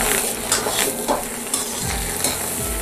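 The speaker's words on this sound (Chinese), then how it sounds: "白菜帮下锅炒至40秒左右，咱们放上葱姜还有干辣椒" Chinese cabbage stems sizzle loudly in a hot wok with scallion, ginger and dried chili as they are stir-fried, a steady dense frying hiss broken by scraping stirs, with no one speaking.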